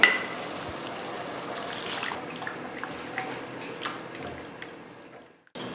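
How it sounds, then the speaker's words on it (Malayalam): Coconut milk pours steadily into a pan with a soft, continuous rushing splash, fairly close, then cuts off near the end. "നമുക്കിതിലേക്ക് തേങ്ങാപ്പാൽ ഒഴിക്കാം"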